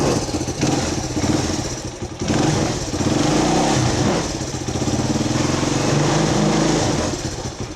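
A Honda XL125S motorcycle engine idles close by with a steady, slightly uneven putter. It dips briefly near the two-second mark and then settles back into a rough idle.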